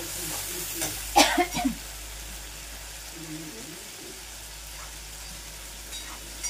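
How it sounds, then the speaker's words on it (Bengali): Spice paste for an egg korma sautés in a pan with a soft continuous sizzle, broken by a few stirring scrapes near the start and later, close and fairly quiet, with a brief cough and some voice. "মশলাটাকে ভালো করে কষিয়ে নেব"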